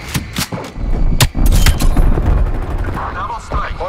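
A hostile sentry turret firing in a video game, sending out loud, rapid volleys of punchy shots up close, with a voice sounding faintly in the mix.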